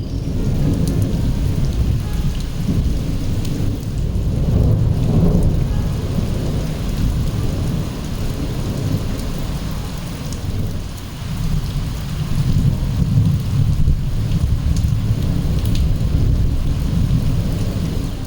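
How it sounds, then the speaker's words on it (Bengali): Heavy monsoon rain pours down in a dense, unbroken roar, with low thunder rumbling beneath it throughout and no voices. "ভোরের দিকে অনেক বৃষ্টি হয়েছে, খুব জোরে বৃষ্টি।"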